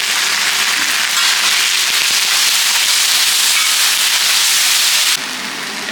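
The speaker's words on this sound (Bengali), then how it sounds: "এটা হালকা করে ভেজে নিচ্ছি।" Onion with a paste of green chilli, ginger and garlic frying in a pan for tawa chicken, giving a loud, steady broadband sizzle that drops slightly in intensity near the end.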